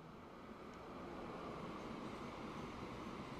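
Train arriving at a freight station in the railway building game Transport Fever, a steady rumbling rail noise that holds at an even level throughout with no speech.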